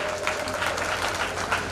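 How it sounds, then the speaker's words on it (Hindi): Applause from an audience at a public inauguration of a new maternal and child hospital wing at a district hospital in Shajapur, a dense, steady patter of many hands clapping at once, brief and fairly close. "जोरदार तालियां"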